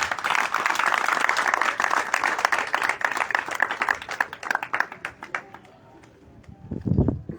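An audience at an evening talk in Owendo claps vigorously to welcome a speaker. The dense applause thins into scattered claps and fades toward the end, then a short low rumble follows.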